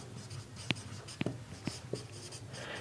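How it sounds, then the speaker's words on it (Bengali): A pen scratching on paper while an accounting table is written out, with four or five distinct short strokes spaced about half a second apart over a faint room background. "তো আমরা এখানে লিখলাম প্রারম্ভিক"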